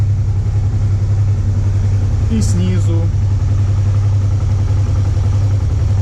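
Honda Transalp 650 motorcycle engine idling cold, recorded from above, a steady low even drone that holds unchanged throughout, with a brief voice speaking partway through.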